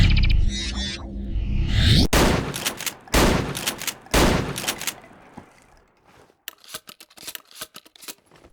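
Shotgun blasts and reloading in the video game Hunt Down the Freeman: a handful of loud, booming shots at a steady pace, each followed by mechanical racking, then a run of quick metallic clicks as shells are loaded.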